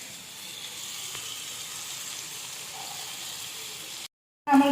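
Soya chunks frying in a pan for pepper chilli soya hiss with an even, close sizzle, cut by a short silence before a loud burst of sizzling returns.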